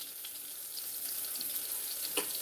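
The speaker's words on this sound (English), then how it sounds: "These are, of course, oyster mushrooms that we love frying up for you guys" Oyster mushrooms fry in a pan with a steady, bright sizzle and soft crackling throughout, close and even, with no voices.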